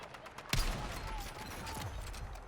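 Gunfire in the video game Battlefield 6, a sharp nearby shot followed by scattered distant bursts and rumbling fire over a steady battlefield wash, moderately quiet.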